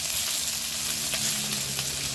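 Fish fries in hot oil with a dense, constant sizzle that stays loud and even throughout the short stretch.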